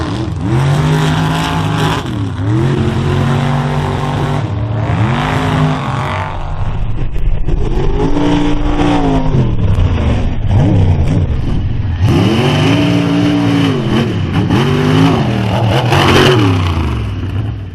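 Mud bogging trucks rev their engines hard in repeated rising and falling surges, loud and close, a roaring engine note sweeping up and down over about a dozen bursts with no talk.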